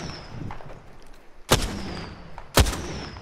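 Two sharp, loud cannon shots from a tank video game, about a second apart, each with a booming low thump and quick decay over quiet background noise.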